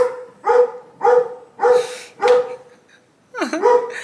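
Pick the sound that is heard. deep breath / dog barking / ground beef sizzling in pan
dog barking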